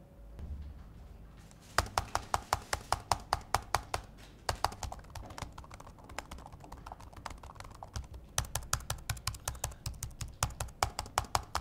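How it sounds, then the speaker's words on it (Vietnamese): Steady, rapid keystrokes on an HP Pavilion 14 Plus laptop keyboard, close and clear, with a brief pause before bursts of crisp typing resume to the end. "Rồi, mình sẽ gõ thử cho các bạn nhé."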